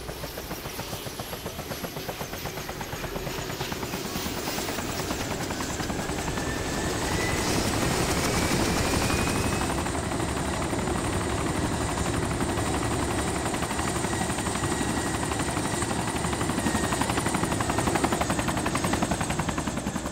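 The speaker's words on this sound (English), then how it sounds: "So I refueled the chopper and it was time to head to get my revenge." A helicopter in the game DayZ flies steadily, its rotor thudding in a dense, continuous, loud drone that grows slightly fuller partway through and holds without pause.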